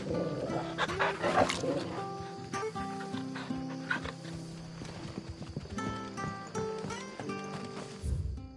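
Otto the dog barks in Final Fantasy XVI, a few short barks mixed into a busy bed of game music and ambience, close and moderately loud.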